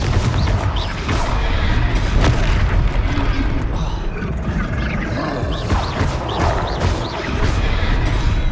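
A Confringo fire blast spell in Hogwarts Legacy booms loudly through a dense, rumbling battle din, with repeated crashing impacts throughout.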